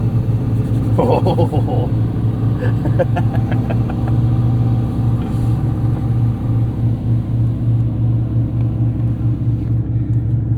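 A 2023 Porsche 718 Cayman GT4 RS engine starts with a turned key, then settles into a loud, steady, close idle rumble; a brief exclamation is heard early on.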